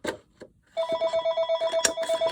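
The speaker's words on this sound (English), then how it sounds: "Did not expect the phone to start ringing while I'm doing this" A telephone rings indoors, a rapid, loud electronic trill pulsing steadily after a few soft taps, close to the microphone.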